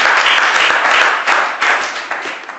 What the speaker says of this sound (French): On applaudit encore une fois le Seigneur.